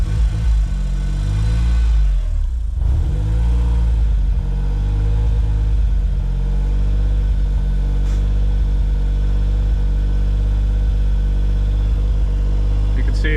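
A Suzuki Autozam AZ-1 idles steadily while warming up from cold, a loud continuous low engine hum with small fluctuations throughout.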